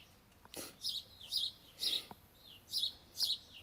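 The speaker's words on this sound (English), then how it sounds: "Birds have something to say." Birds outdoors give a string of short, bright chirps in quick repeated bursts, moderately close and faint, with no voices.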